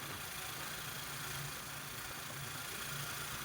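A tricycle's engine running steadily during a ride in Puerto Princesa, Palawan, a low continuous rumbling drone with even vibration throughout, fairly quiet and without voices.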